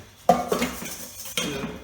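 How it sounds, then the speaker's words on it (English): Egg yolks and white wine vinegar being whisked in a bowl for béarnaise sauce, heard as two short bursts of close metal-on-bowl clinking and scraping with a pause between. "Add a tiny bit of white wine vinegar to it and start whisking."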